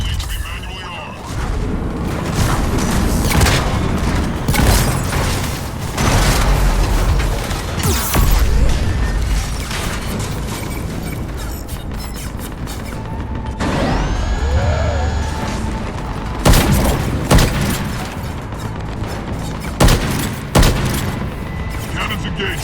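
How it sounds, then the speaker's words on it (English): Spaceship cannons fire in the Mass Effect game, heavy booming volleys and crackling blasts rolling over a dense mechanical din, with voices talking between the shots. "Cannons engaged."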